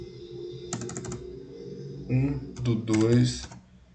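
Quick bursts of keystrokes on a computer keyboard while a date is entered in a form field, light clicking in short runs that come and go under someone speaking Portuguese.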